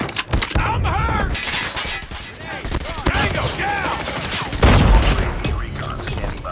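Rapid gunfire in the mobile shooter Call of Duty Mobile, dense loud bursts and repeated shots with in-game voices shouting over the battle.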